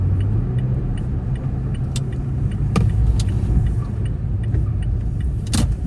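A truck engine idles steadily from inside the cab, a low continuous rumble with a few faint clicks and rattles over it and no talking.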